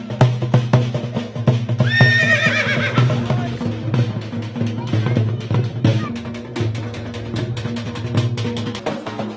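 Horses neigh at the busy Sarangkheda horse market, one loud whinny standing out among clip-clopping hooves, crowd murmur and nearby voices.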